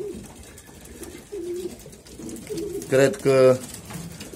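Domestic pigeons coo softly in the background at first, then louder, closer coos rise near the end, with someone talking over them.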